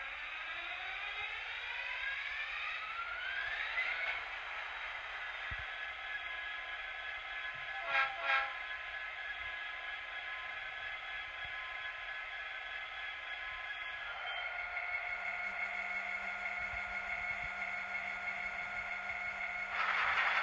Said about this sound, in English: So I installed a LoCSound Select sound decoder in this model.